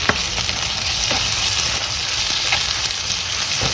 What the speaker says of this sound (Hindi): बस इसके अंदर हम डालेंगे टमाटर।